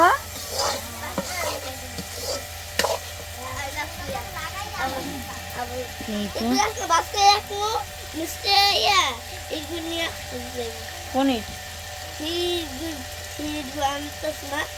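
Food sautéed and stirred in a pan gives a continuous sizzle with scraping stir strokes, while people talk over it throughout.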